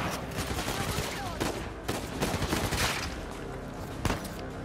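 Dense, sustained gunfire in Uncharted 4 rattles almost without pause, rapid machine-gun-style bursts and overlapping shots filling the scene at close range, with a few heavier bangs standing out near the end.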